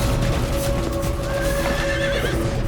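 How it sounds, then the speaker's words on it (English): A horse whinnies and neighs in a long, wavering call, heard over constant loud background noise and splashing water, with no speech. "I've got to get this horse out of there."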